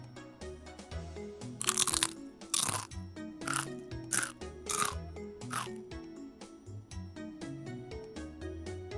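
Purple flaming hot Doritos chips being eaten up close: a series of loud, sharp crunches and bites over about six seconds, irregularly spaced, over soft background music.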